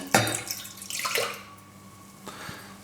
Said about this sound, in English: I'm going to start off by just putting some milk in there